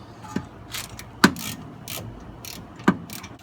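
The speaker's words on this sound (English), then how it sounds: "This is the bolt we're turning." A ratchet turning a brake caliper bolt on a car: a few sharp, separate clicks spaced about a second apart, near and distinct, with faint rustling between them.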